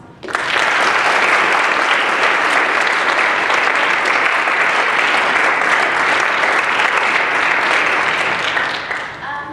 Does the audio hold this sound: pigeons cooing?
no